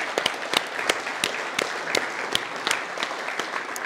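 Applause from an audience gathered in a car dealership showroom, a fairly small crowd clapping with sharp individual claps standing out over a steady wash, close and continuous for several seconds.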